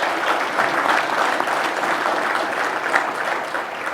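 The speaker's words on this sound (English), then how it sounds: "That's a well-deserved applause" Audience applause fills a hall at a live event, a dense, steady wash of clapping from a large crowd, loud and continuous with no talk over it.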